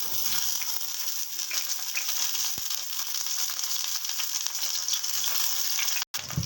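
Eggplant slices coated in oil fry on a hot tawa, giving a steady close sizzle with a few soft clicks and one brief dropout near the end, no voices.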